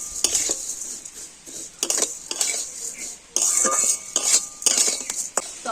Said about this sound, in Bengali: আর এবার আমি ঘিয়ের সাথে সিমাইটা একটু হালকা করে ভেজে নেব